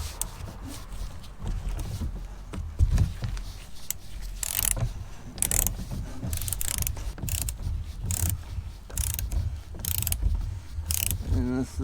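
A ratchet wrench with an extension works the oil drain plug on a 2017-2025 Mini Cooper S 2.0L, producing a dense, continuous run of close mechanical clicking and clattering.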